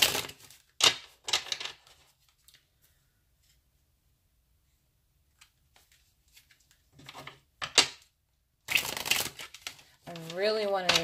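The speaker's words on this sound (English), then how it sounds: "let me shuffle a couple times." Several quick riffling bursts of tarot cards being shuffled, separated by quiet pauses, with a short stretch of voice near the end.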